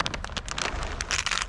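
Rain falling outside, a dense, steady patter of drops hitting surfaces, close and continuous with no voices.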